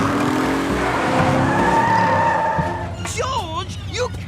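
A cartoon car skids and squeals while spinning donuts in the jungle, a loud sustained tire screech and engine roar, followed near the end by a character's voice.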